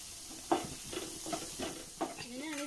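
Chilli powder being stirred in a frying pan for capsicum mezhukkupuratti, a soft hiss with rhythmic scraping strokes about every half second, fairly quiet and close.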